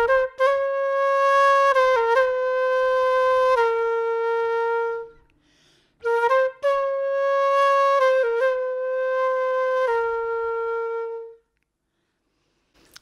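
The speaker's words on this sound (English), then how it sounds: "So this first phrase is the whole sax section plus the flute." Solo flute plays a jazz phrase, two long legato lines of sustained, clear tones without vibrato, separated by a short pause and ending in silence.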